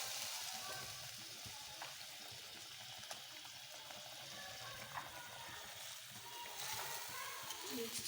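Masala fries and roasts in a pan over a medium flame, with a steady, soft sizzle and faint stirring scrapes throughout.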